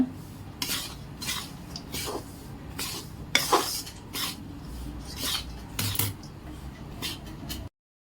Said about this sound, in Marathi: अजून थोडं परतून घेऊ जोवर ते तेल तूप सोडत नाही तोपर्यंत